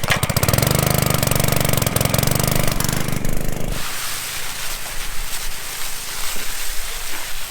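A 2-inch water pump engine feeding a fire hose runs loud and steady with a buzzing, small-engine drone for several seconds, then drops to a rougher, quieter idle that sputters on near the microphone.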